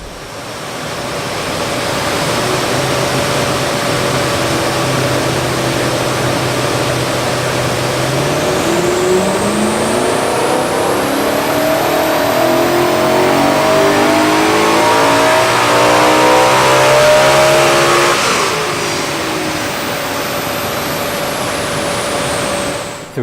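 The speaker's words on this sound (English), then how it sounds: "So we've just finished dynoing the M3 with the Eventuri intake on there." A BMW E9X M3 with an Eventuri intake revs hard on a dyno, engine pitch climbing steadily in a long sustained pull before easing off, loud and continuous with no talking.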